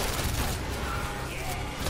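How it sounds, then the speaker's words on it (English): Dense, continuous gunfire in the PlayStation VR game The London Heist, a loud, rapid rattle of bullets filling the whole moment, with a voice faintly under it. "look at those bullets fly"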